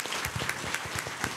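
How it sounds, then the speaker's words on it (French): Applause from a middle-school audience for a student delegate, a steady dense patter of many hands clapping close by, filling the moment without speech. "On peut l'applaudir bien fort."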